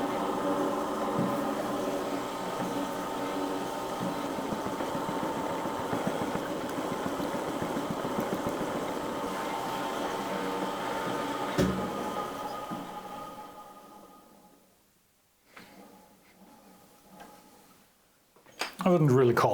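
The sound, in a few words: Deckel slotting head cutting a keyway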